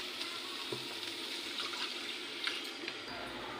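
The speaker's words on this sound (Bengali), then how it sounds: "এবার হালকা করে একটু জল দিয়ে দেবো।" Water is poured gently into a pan of fried masala spices for a fish curry, a soft steady trickle and light sizzle lasting a few seconds with no talk.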